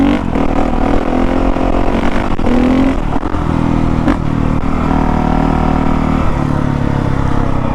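A 2019 Honda CRF450R dirt bike accelerating hard close up, a loud continuous engine roar that climbs in pitch with clattering mechanical noise.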